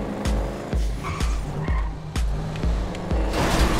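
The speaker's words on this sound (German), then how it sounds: "Oh, wir hören den Turbo richtig." Grand Theft Auto V car engine revving hard in repeated bursts with turbo whooshes, gear shifts and brief tire squeal, loud and close.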